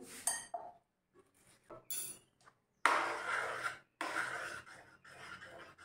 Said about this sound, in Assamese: আমি অলপ দেৰি লাৰি দিওঁ ঘিউ দিয়াৰ পিছত